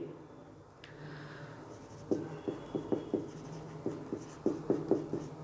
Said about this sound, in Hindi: लिखेंगे